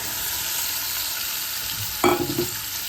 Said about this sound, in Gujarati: હવે કોથેમ્બા નાખવાના છે આપણે વઘારની અંદર